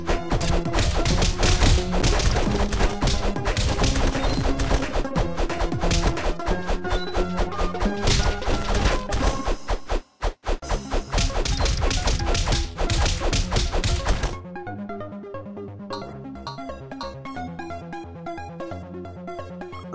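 Lollipop weapon thumping and whacking enemies in the Castle Crashers brawler game, a dense run of rapid impact hits over loud game music that thins out and softens toward the end.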